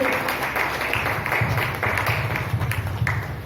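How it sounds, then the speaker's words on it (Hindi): Audience applause greeting a new core member at a monthly celebration program, a scattered patter of claps at moderate distance, fairly soft and uneven throughout. "तालियों की माला से अगर आप लोग पहनाएं तो बहुत अच्छा रहेगा"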